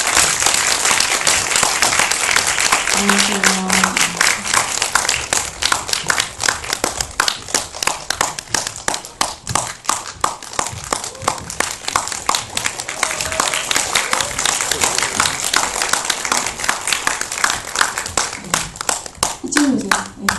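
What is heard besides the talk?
audience applause welcoming director and actors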